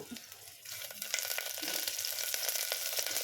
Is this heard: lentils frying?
yes